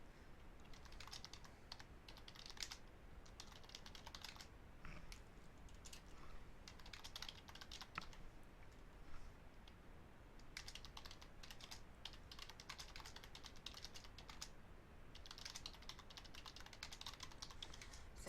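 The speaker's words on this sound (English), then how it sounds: "typing is distracting, so it's hard for me to type and talk at the same time." Steady typing on a computer keyboard, a continuous run of soft, quick key clicks with brief pauses between bursts, fairly quiet and close.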